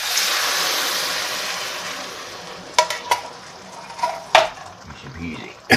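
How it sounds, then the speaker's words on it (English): Coconut milk goes into a simmering lentil and squash curry with a loud broad hiss that gradually fades, followed by several sharp spoon-on-pan clinks as the mixture is stirred. "Right, then we get the coconut milk in."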